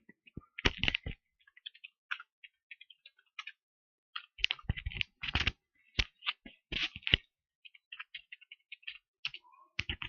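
A computer keyboard is typed on at close range in irregular bursts of crisp clicking keystrokes, separated by short silent pauses.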